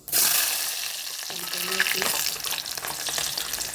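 Cumin and mustard seeds sizzle loudly in hot oil in a pan while upma is being made, a dense continuous crackle with a short stretch of a voice partway through.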